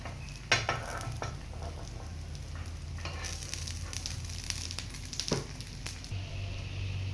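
Egg paratha frying in ghee on a flat pan, a steady low sizzle running throughout with a few sharper crackles and brief scraping touches as it is flipped, fairly close and with no talking.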